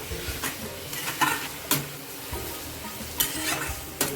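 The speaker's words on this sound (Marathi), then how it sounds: "आता आपण कैरी चांगली परतून घेऊ" Raw mango pieces being sautéed in ghee in a pan for gulamba, with soft sizzling under scraping stirs and a few sharper knocks of the spoon against the pan, fairly quiet and without talk.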